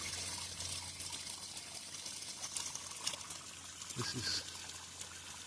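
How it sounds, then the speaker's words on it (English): Mountain water runs from a pipe into a stone trough in Bosnia, a steady faint trickle and splash under light outdoor ambience. A voice speaks briefly over it. "Pipes bringing it down, so you can fill up your water bottle here"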